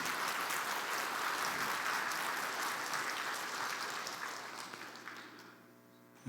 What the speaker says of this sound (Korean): 박수로 우리 격려해 주시겠습니다